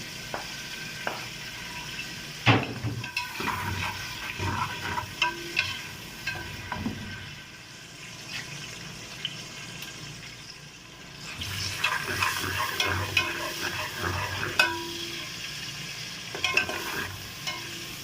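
Finely chopped onions fry in a generous amount of oil for mutton kabsa, a steady sizzle broken by scraping and stirring sounds, close by with no one talking.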